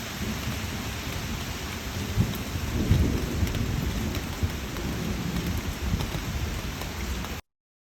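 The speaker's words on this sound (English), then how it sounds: "Oh, I love the sound of the rain." Steady heavy rain falling on a day of rainfall, with low rumbling thunder swelling in the middle, a continuous close wash of sound with no voices.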